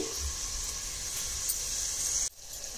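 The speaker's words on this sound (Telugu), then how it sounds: "దీనిలోనే ఉల్లిపాయ ముక్కలు, పచ్చిమిర్చి, టమాటా వేసి బాగా ఫ్రై చేసుకోవాలి." Chopped onion, green chili and tomato fry in hot oil in a pressure cooker, giving a steady close sizzle that cuts off abruptly near the end and gives way to a quieter hiss.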